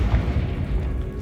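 A Confringo fire spell blast in Hogwarts Legacy gameplay, a dense booming burst with a rumbling low-end thump that fills the whole short moment.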